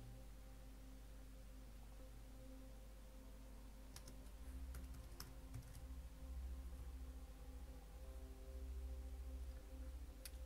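Quiet keyboard typing in short bursts of clicks over a low background hum, close but faint, while setting up a fresh Ubuntu install.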